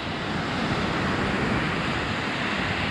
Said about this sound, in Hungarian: Milyen szép itt a tenger a lemenő napnál.